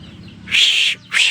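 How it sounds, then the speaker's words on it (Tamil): Chickens foraging for insects among garden plants let out two loud, close, shrill calls, the first longer and the second short, over a quiet background. "இது அப்படியே விட்டங்களெல்லாம் கோழி காத்துட்ருக்குறாங்க இதில் உள்ள பூச்சி திங்கிறதுக்காக."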